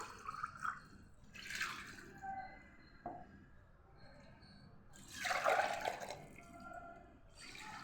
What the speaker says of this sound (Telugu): ఇందులోకి మనం తగినన్ని నీళ్ళు అయితే తీసుకోవాలి.